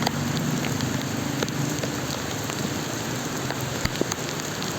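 Heavy rain pours steadily in a dense, constant hiss, with occasional sharper drops hitting a surface nearby; no voices.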